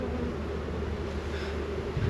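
Honeybees buzz faintly around a brood frame lifted from a hive, a soft continuous hum with no talking.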